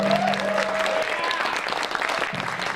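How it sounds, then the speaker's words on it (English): Audience applause fills a convention panel room at ComiConn 2018, a steady dense clapping that continues through the whole stretch, with a brief tonal voice or whistle near the start and faint crowd sounds mixed in. "I want a big round of applause."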